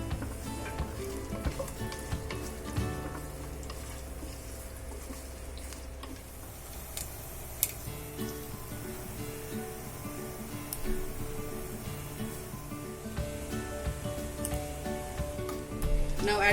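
Dry fruits fry in a pan for sweet zarda rice, a steady close sizzle with scattered ticks and small pops and occasional stirring clinks running throughout.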